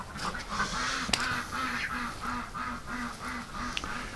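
Ducks quack in a steady, evenly spaced series of calls, fairly close, with a brief sharp knock partway through and soft background noise.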